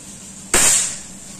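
A lightweight mini bullpup PCP air rifle cracks once at a metal silhouette, a sudden sharp snap with a glassy, ringing edge that fades within half a second in otherwise quiet surroundings.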